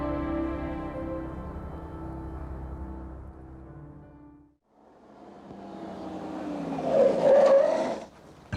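A car engine drones steadily, then after a brief pause the tires screech loudly as it skids to a stop, the squeal swelling near the end.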